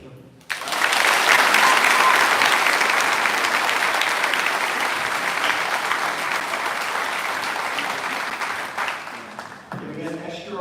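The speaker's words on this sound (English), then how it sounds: "give a great round of applause for working through that" Dense, loud applause from the crowd at the Schenck High School class of 2024 graduation ceremony fills the room for about nine seconds, then fades as a voice begins talking at the end.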